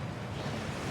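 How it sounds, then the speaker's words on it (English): Waterfall guarding the Gringotts vaults in the video game Hogwarts Legacy, a steady, dense roar of rushing water that stays loud and unbroken throughout, with no voices over it. "That waterfall washes away all enchantments."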